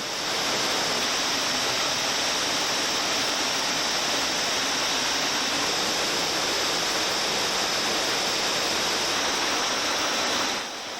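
A rushing waterfall torrent pours through a low, wet cave passage, a loud, unbroken roar of water that holds steady throughout.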